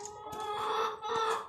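Hens cluck in a steady, busy stream, several birds close by with overlapping calls and no talking.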